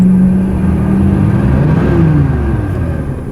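A G-body car, such as a Pontiac Grand Prix, Cutlass or Monte Carlo, in working order, its engine running steady and loud, revving slightly, then settling down toward idle.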